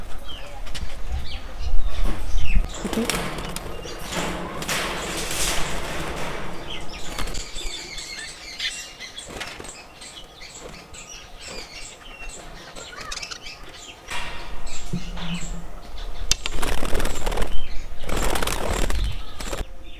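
Caged budgerigars flutter in bursts of rapid wingbeats, with busy high chirps and tweets scattered between the flapping, close and fairly loud.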